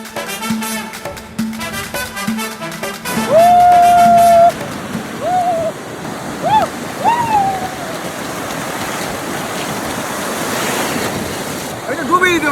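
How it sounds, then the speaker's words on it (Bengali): Ocean waves washing onto the beach at Kuakata, a steady broad surf rush with wind, joined by whistling tones and a few brief voices in the first seconds. "আমরা এখন সাগর পাড়ে চলে এসেছি"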